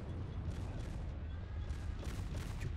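Dense, loud gunfire and repeated explosive booms in the war game Men of War: Assault Squad 2 during a Pacific campaign battle on Borneo, bursts overlapping continuously throughout.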